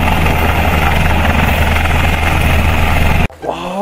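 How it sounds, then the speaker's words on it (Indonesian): Combat helicopter, a loud continuous rotor and engine roar that cuts off abruptly near the end, followed by a brief voice. "ini helikopter tempur guys"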